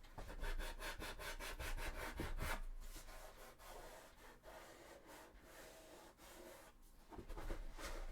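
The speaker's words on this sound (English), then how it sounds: "It's so hard to sand something that you're like, it's so long." A long cosplay armour piece for a Warhammer 40k Sisters of Battle costume being sanded by hand, with quick rhythmic rasping strokes that then settle into a steadier, continuous rubbing, close and quiet, with no talking.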